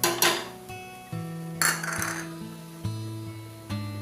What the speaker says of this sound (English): Stir all these ingredients in a low flame